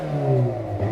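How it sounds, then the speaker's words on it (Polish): Hyundai i30 N with a 2-litre engine and sports exhaust, revved cold from behind: a steady, throaty mid-pitched drone with rising and falling harmonics, close and loud, with no talking over it. "bardzo fajnie brzmiały i 30N zawsze, jak na 2-litrowy silniczek, to miały sportowy układ wydechowy i to z tyłu gadało bardzo fajnie"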